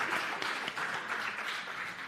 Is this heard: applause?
yes